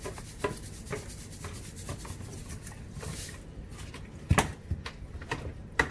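A spoon scrapes and stirs seasonings around a pot in a home kitchen, soft irregular rubbing with a few sharper clinks, quiet and close.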